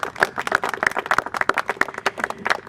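Audience applause at a Howard County event unveiling Tradepoint at Savage Crossing, a burst of close, uneven hand claps from a modest crowd that continues steadily throughout without speech.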